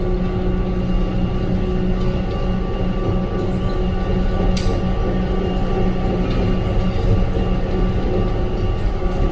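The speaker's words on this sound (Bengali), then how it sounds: "ড্রাইভার ছাড়াই ট্রেন চলছে" A driverless Dubai Metro train runs along, a continuous loud rumble with a steady mechanical hum and a couple of faint clicks, heard from on board.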